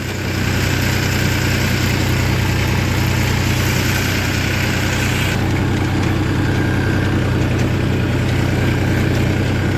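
A tractor engine idles steadily in a sugarcane field during rotavator tillage of three-year-old cane leaves, a loud, constant low rumble that carries on without a break and with no talking.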